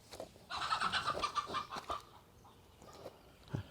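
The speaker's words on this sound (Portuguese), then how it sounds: "toda vez tem uma galinha aí fazendo uma arruaça" A chicken clucks and squawks loudly in a burst of repeated calls at a Brazilian stingless jataí bee box transfer outdoors, then fades to quieter intermittent clucks.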